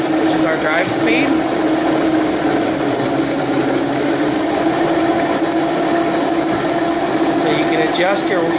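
An ASL RT3 ride-on concrete grinder runs loud and steady while driving forward, with a constant high whine over a dense grinding roar and brief squeals near the start and end.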